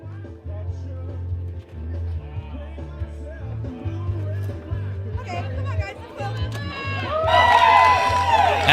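A crowd at an outdoor strongman competition chatters and cheers while a competitor fires them up. The noise swells into louder cheering and whoops toward the end, over a steady low drone.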